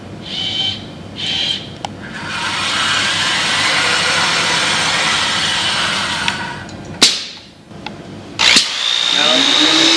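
A robotic workcell drill bores into a block for a pen and pencil holder, giving a loud, steady broadband whine that runs for several seconds and then cuts off, followed by sharp clanks and a brief high tone from the machinery.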